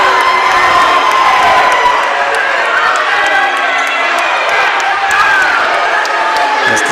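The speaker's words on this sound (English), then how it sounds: "the crowd does not like that" Basketball crowd at a Tahlequah versus Durant game reacting with loud sustained displeasure to a foul call, a dense roar of voices and shouts filling the gym throughout.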